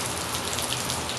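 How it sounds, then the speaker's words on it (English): Steady rain falls on a Sunday afternoon in Florida, a dense, even hiss of drops on surfaces with no pauses or voices. "It's raining."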